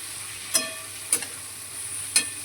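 Green beans, a Shravan ghevda bhaji, stirred and fried with spices in a pan: three sharp scrapes of a spatula spaced about half a second apart over a steady low sizzle, with no voices.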